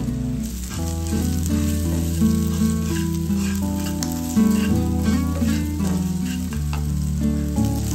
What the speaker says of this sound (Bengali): এবার ভালো করে কষিয়ে নিতে হবে